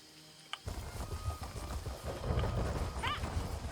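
Hoofbeats from a horse mount in Elder Scrolls Online, a steady clip-clopping run that starts after a brief pause, with a chirpy game effect near the end.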